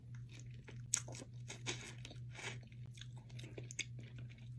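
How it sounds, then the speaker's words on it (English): Shrimp at a seafood boil is chewed and bitten close to the mic, giving wet crunches and clicks in an irregular rhythm with no talking. "If I don't eat the shell, this is how I eat my shrimp."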